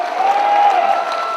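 An audience at a book launch event claps in a short, dense burst that holds steady and fairly loud throughout, with a faint tone running underneath.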